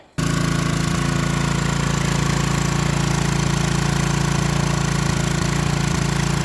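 A free Troy Bilt pressure washer's small gas engine runs steadily and loudly at close range, a constant droning idle with a slightly rough, knocking pulse, alone with no talking.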